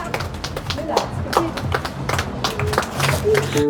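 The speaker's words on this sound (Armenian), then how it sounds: "Ծափերը" A crowd claps steadily and rhythmically at a festive family celebration such as a wedding. The quick, even claps stay fairly close, with voices mixed in underneath.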